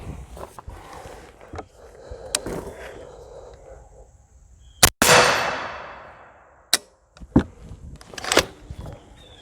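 Suppressed .308 AR semi-automatic rifle firing outdoors: a handful of sharp, loud reports spaced irregularly, one followed by a long decaying echo, with faint background noise between shots.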